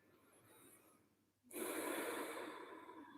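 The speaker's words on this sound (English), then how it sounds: "Breathe through your nose." Slow breathing in through the nose during a yoga flow, a quiet pause and then a long, steady, airy inhale that builds and holds close to the microphone.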